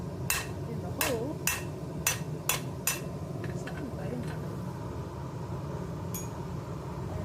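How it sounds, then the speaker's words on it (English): A blacksmith hammers hot steel while forging a nail, with six sharp, ringing metallic strikes in a quick, even rhythm, then a few lighter taps and a later clink under a low background hum. "hit it with the hammer on the bottom"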